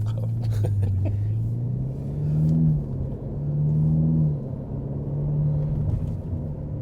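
An Audi RS3 sedan drives with a steady, low engine drone that rises and swells briefly twice before settling into an even hum, fairly quiet and with no talking.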